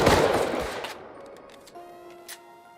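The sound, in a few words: gunshots in video game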